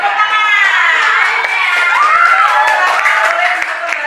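A classroom of children applauds and cheers after a prize is announced, with loud scattered clapping under excited shouting and voices throughout.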